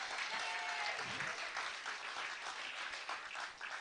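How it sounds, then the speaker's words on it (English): A crowd applauds an MC at a live outdoor street broadcast, a steady wash of clapping that sounds distant and fairly quiet, continuing throughout with no speech over it. "Give him a round of applause,"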